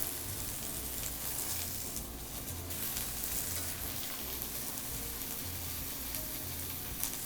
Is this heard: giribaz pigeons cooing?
no